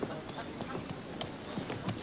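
Horses gallop in a race, hooves clip-clopping in a quick, uneven patter of soft thuds, fairly faint and distant, with some voices mixed in.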